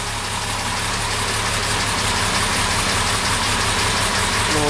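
A car engine fitted with twin SU carburettors idles steadily after tuning, a constant even running note with a slight knock that continues for several seconds with no voices.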